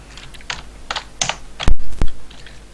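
Computer keyboard keys tapped in short bursts while playing the multiplayer game SA-MP, several clustered clicks followed by two louder, sharper key strikes near the end, close and alone without talk.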